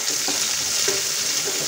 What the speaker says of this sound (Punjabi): ਲਸਣ ਅਤੇ ਅਦਰਕ ਭੁੱਜ ਗਿਆ, ਹੁਣ ਆਪਾਂ ਇਹਦੇ ਵਿੱਚ ਇਹ ਕੱਟਿਆ ਹੋਇਆ ਪਿਆਜ਼ ਪਾਉਂਦੇ ਹਾਂ।